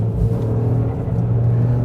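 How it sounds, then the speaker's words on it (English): A Toyota GR Corolla Morizo Edition's turbocharged engine drones loud and steady from inside the car on a race track, with a continuous mechanical hum and no talk. "the motor actually sounds really cool. It doesn't sound funny, or it's actually got a very cool mechanical sound"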